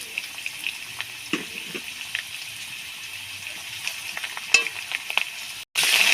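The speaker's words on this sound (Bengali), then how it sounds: "আদা বাটা দিয়ে নেড়ে ছেড়ে দিয়ে দেবো" A soft, steady sizzle comes from potatoes frying in a pan with ginger paste, with scattered scrapes and clicks as a spoon stirs them, fairly quiet throughout.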